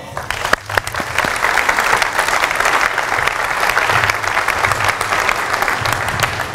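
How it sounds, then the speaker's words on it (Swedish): Sustained audience applause fills the room after a floorball line-play demonstration, dense and loud clapping from a crowd, with a voice briefly audible underneath. "Vi ger dem en applåd."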